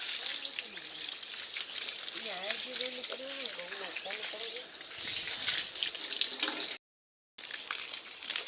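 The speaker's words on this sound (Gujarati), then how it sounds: "આપણે પપ્પાની ગાડી ધોવા વહી ગયા પાણી છાંટી દઈએ" Water sprayed onto a father's car while washing it outdoors, a steady broadband hiss of spray running under a person talking, with a brief gap near the end.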